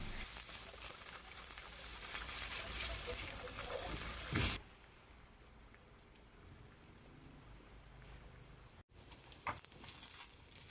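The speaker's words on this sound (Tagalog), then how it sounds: "iprito natin konti yung sliced ham at saka yung mushroom na rin" Sliced ham and mushroom frying in a pan, a soft steady sizzle and crackle that stays fairly quiet, with a louder burst early on and a few pops near the end.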